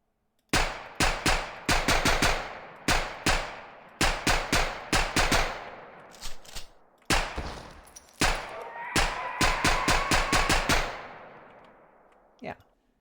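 Gunfire from a video game under development with recoil being tuned: bursts of sharp close shots in quick rapid runs separated by short pauses, each crack trailing off, with a last lone shot after a gap.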